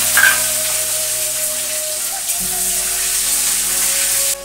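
Panch phoron spices, ginger and chilli sizzling in hot oil, a loud continuous crackling hiss close up that cuts off abruptly near the end, with no voices.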